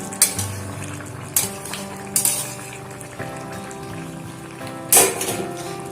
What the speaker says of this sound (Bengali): এই সময় একটু আমি নাড়াচাড়া করে দিচ্ছি